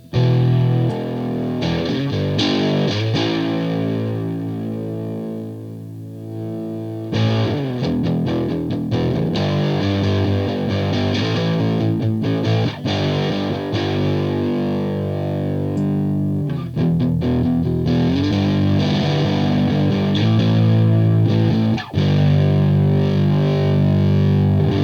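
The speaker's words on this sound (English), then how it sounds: "But that's the fuzz. So that's the overdrive," Electric guitar played through Fender Hammertone fuzz and overdrive pedals, a loud, thick distorted tone with sustained chords and riffs continuing for the whole stretch, one short pause near the start, no talking.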